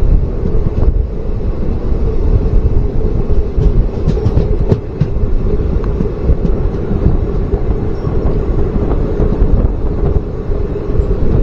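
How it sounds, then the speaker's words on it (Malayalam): An express passenger train on the railway near Payyoli gives a loud, steady rumble and clatter throughout, with wind buffeting the microphone and no talking. "എക്സ്പ്രസ് വരുന്നുണ്ട്, ഇന്റർസിറ്റി ആണോ അറിയില്ല."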